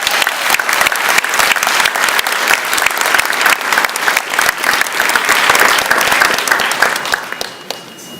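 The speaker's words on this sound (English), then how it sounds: "Give yourselves a round of applause." A public works association celebration audience gives a round of applause, dense, steady clapping from a large crowd filling the room, holding strong before tapering off slightly at the end.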